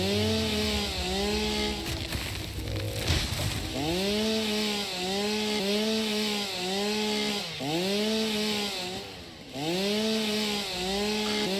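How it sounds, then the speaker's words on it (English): Chainsaw cutting in Satisfactory, a buzzing motor that revs and bogs in repeated strokes, with a few brief gaps between cuts, close and steady. "Okay, we need the chainsaw."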